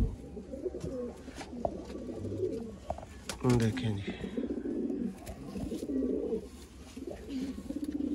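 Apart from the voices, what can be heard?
pigeons cooing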